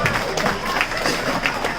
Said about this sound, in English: Let's give Corin Dewhurst a round of applause for being here.